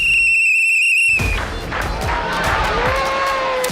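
A loud, shrill whistle blast is held for about a second and then cuts off. A noisy burst of crowd cheering follows, with more whistling rising through it.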